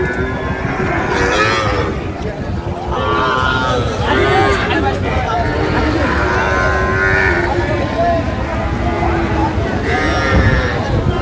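Cattle, including young bulls, moo repeatedly at a busy livestock market, several loud overlapping moos from nearby animals rising over a constant crowd hubbub and voices.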